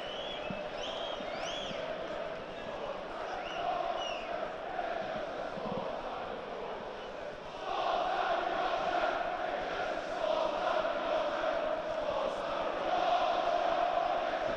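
Football crowd at a Middlesbrough match, a broad roar of distant voices with banter and chanting, swelling louder in the second half, with whistle-like tones early on.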